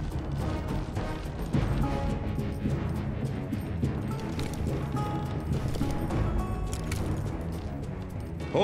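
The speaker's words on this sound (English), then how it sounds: "Horses. Look at those beauties." Horse hooves clatter amid a dense, loud game soundscape in the Western shooter Call of Juarez: Bound in Blood, with thuds and crashes mixed in continuously.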